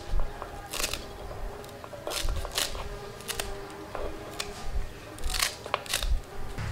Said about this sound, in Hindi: थोड़ा हरा धनिया काट लेंगे,